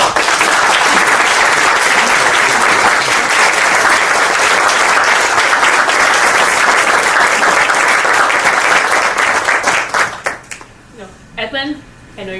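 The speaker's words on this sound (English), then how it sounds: "Let's give a round of applause for Dr. Edwin Bogonko." Loud sustained applause from a large crowd fills the space, then fades out as a person starts talking.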